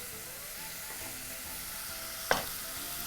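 Beef pieces hitting a hot casserole pot, giving a steady sizzle and hiss with one sharp clink near the end, and no talking.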